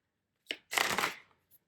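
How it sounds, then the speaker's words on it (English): A riffle shuffle of a deck of oracle cards, heard close and alone: a brief flick, then a longer crisp burst of cards riffling together as they fall into place. "I'll show you guys sort of a riffle shuffle here"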